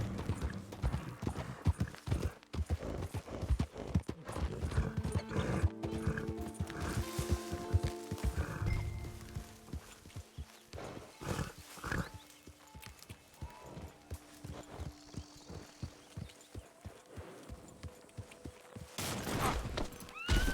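Horse hooves clip-clopping in the video game Red Dead Redemption 2, a busy uneven stream of hoofbeats with a few louder knocks, fairly quiet overall.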